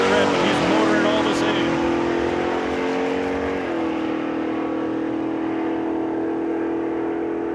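A 1962 Plymouth Fury launches down the drag strip at Saskatchewan International Raceway, its engine a loud, strained roar that holds steady as it pulls away while an announcer talks over it.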